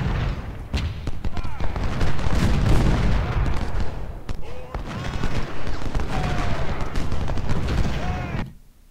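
Musket volleys and artillery fire rage across a Civil War battlefield in Ultimate General: Civil War at Gettysburg, with dense overlapping shots and heavy booms running almost continuously before cutting off at the end.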